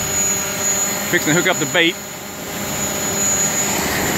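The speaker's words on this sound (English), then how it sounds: "Alright, drone's alive. We're hovering." A fishing drone hovers near the ocean shore, its propellers giving a steady high whine and hum throughout, while someone speaks briefly over it.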